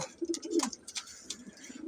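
Racing pigeons coo nearby in soft, throaty bursts, several overlapping calls with short pauses between them.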